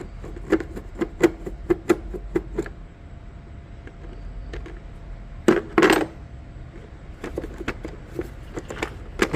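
Small metallic clicks and taps from a Phillips screwdriver working two Phillips-head screws loose on a 2020 Yamaha Fino125 scooter, a quick run of close, sharp ticks, a louder rattling scrape midway, then more scattered clicks.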